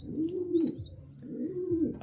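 Two low, rolling coos from a Janssen de Klak pigeon follow one after another, each a smooth rising and falling call heard close and clear over faint background hiss.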